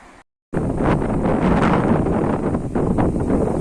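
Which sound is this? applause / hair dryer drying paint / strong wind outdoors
strong wind outdoors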